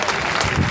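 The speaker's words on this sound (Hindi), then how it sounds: "जोरदार ताली बजा कर स्वागत करिए भगवान जी का" A crowd at an outdoor political rally claps loudly to welcome a guest, a dense wash of applause filling the whole brief moment without pause.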